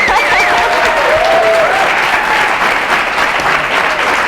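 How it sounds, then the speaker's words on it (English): A studio audience at a 1981 television talk show breaks into loud, sustained applause, a dense wash of clapping throughout, with a faint voice briefly heard over it. "I thought all this applause was for me because I was on the show."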